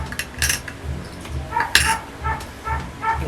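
Gold coins dropped one by one into a prosperity bowl before rice goes in, a series of light metallic clinks at a steady pace, close and fairly clear, with no speech.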